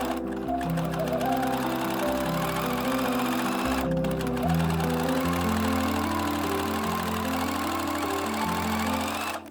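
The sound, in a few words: sewing machine sewing elastic onto a corset chemise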